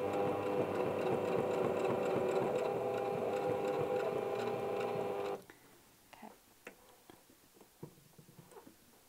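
A sewing machine re-stitches a shirt collar with a steady, whirring run for about five seconds, then stops abruptly, leaving quiet handling clicks and small taps.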